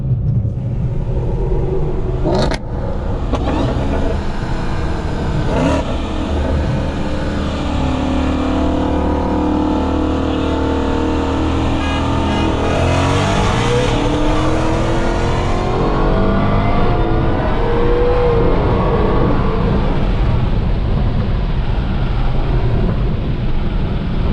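A stock widebody Dodge Hellcat and a supercharged Mustang race, their engines roaring loud and close with a steady rumble, then revving harder as the pitch climbs toward the end.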